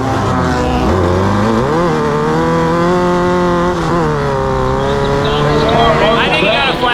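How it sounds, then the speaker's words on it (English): Race cars scream past at full throttle, loud engines rising and falling in pitch as they accelerate and shift, with a continuous roaring pack sound close by. "Ricky Parsons able to make it happen to turn around the race."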